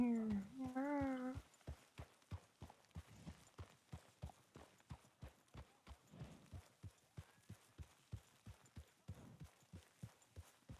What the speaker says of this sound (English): I hear another horse.